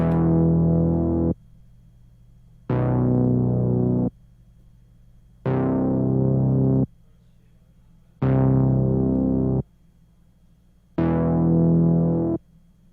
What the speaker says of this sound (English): the last thing I added was this 3 oscillator bass from Analog Lab